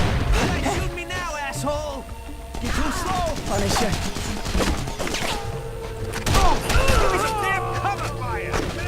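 A fire bomb goes off in The Punisher video game, a dense burst of crashing, gunfire-like impacts amid ongoing combat noise and music, with someone talking over much of it.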